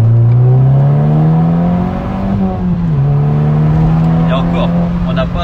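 A Volkswagen Scirocco R engine pulls hard under acceleration, its steady drone rising in pitch from inside the car, with people talking over it.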